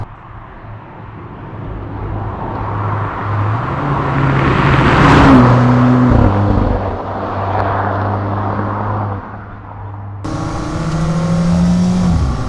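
A loud Alfa Romeo 4C Spyder engine hums and rises in pitch, swelling as it accelerates through corners, dips as gears downshift, then climbs again; steady tire and wind noise underneath.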